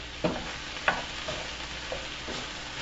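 Coconut curry chicken with broccoli cooking in a cast iron pan, a soft steady sizzle with a few faint stirring scrapes and clinks, alone and fairly quiet.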